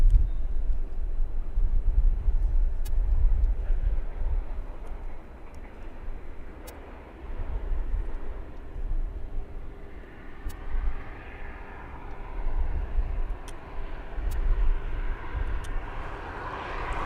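A West Atlantic Boeing 737 at East Midlands Airport in the evening, its engines a loud, deep, continuous rumble that swells and eases over about seventeen seconds, with faint clicks above.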